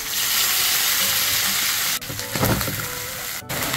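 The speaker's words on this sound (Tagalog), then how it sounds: "Maglagay po tayo ng butter. Saka po natin ilagay yung ating mga pinalambot na knuckles." Pork knuckles frying in butter with garlic in a pan, a loud, steady sizzle throughout that briefly drops out at two points and swells again as the meat goes in.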